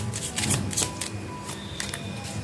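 Tarot cards being shuffled and drawn in a monthly zodiac reading, with several crisp riffling bursts followed by quieter card slides, close and fairly loud, no voices.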